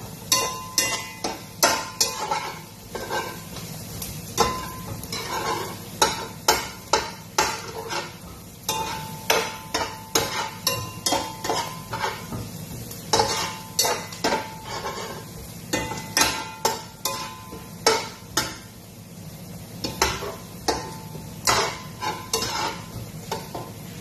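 Onion and ginger sauté in a pan as a utensil scrapes and clinks against the metal in quick, regular strokes over a soft, steady sizzle, close up with no talking.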